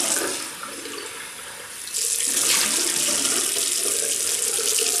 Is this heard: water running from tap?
yes